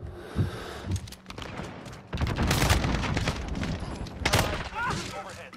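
Grenade blasts and bursts of gunfire from the shooter game Modern Warfare, loud and dense, with deep booms layered under rapid shots and a sustained heavy barrage in the middle, close and chaotic.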